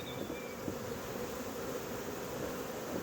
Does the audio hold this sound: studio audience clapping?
no